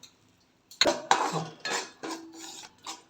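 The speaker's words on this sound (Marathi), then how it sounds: "कणिक खरपूस भाजून घ्यायची आहे" A spoon scrapes and clinks against a pan while wheat flour is roasted in ghee for a sweet gum kheer, sounding as a few close, irregular metallic clatters separated by brief quiet gaps.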